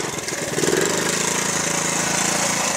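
A 1978 Honda Z50 mini trail bike's small engine starts up and runs steadily close by, a buzzing, slightly rough drone that holds at a fairly even level throughout.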